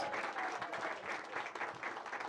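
Audience applause for Sidney Katz, the longtime mayor of Gaithersburg, at a public gathering: steady, dense clapping from a crowd, fairly faint and distant, sustained without pause through the whole stretch.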